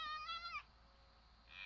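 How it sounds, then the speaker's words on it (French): Fox cry in the survival video game The Infected, a thin, wavering high-pitched yelp that slides downward and breaks off, then a second faint cry begins, heard at a distance over quiet ambient noise. "J'entends le renard, je ne sais absolument pas où il est."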